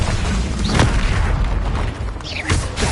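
A Confringo blast spell in Hogwarts Legacy on PS5, a dense booming rumble with creaking, mechanical textures and a whooshing sweep near the end, loud and continuous with no speech.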